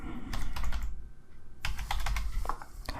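Someone types a one-time passcode on a computer keyboard, two bursts of quick, close key clicks separated by a brief pause.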